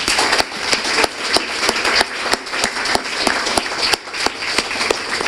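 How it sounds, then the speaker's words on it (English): An audience at an evening education panel applauds, dense continuous clapping from many hands throughout, fairly loud and close. "Let's give them a round of applause too."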